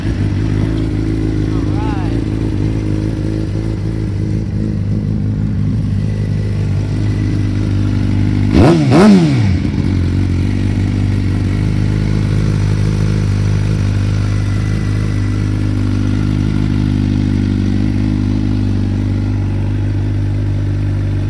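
A 2016 Suzuki GSX-R 600 sport motorcycle idles with a steady low engine drone, then a brief throttle blip rises and falls around the middle before the idle settles again, close and loud.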